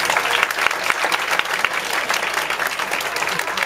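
Live-event audience applauding continuously for the venue staff at a Tokyo music show, dense steady clapping from a crowd at close range with no talk over it.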